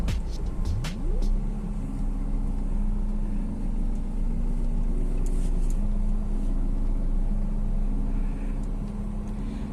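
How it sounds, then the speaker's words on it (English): Continuous droning diesel engine noise from inside a moving 2015 Maruti Suzuki Swift Dzire, with the pitch stepping up and down through gear changes. "The engine feels some kind of noisy."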